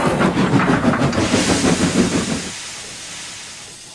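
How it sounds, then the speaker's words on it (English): A steam train chuffs and hisses loudly nearby in a rapid, rhythmic beat, then the sound cuts off abruptly, leaving quiet background noise. "Henry pulled the train out of the way."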